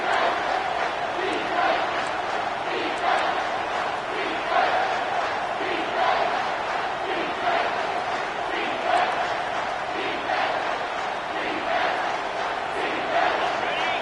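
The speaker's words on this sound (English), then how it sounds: "Third down, and this crowd is tearing the lid off this place" A college football stadium crowd roars loud and unbroken on a third down, a massive sustained wall of cheering and yelling that pulses slightly.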